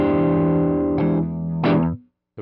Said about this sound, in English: we're starting to get into some gainier sounds earlier here in the high gain channel